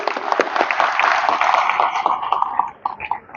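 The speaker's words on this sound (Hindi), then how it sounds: "भाई इनके लिए ताली बजाइए सब लोग" An audience claps together in a dense, continuous burst of applause that fades out toward the end.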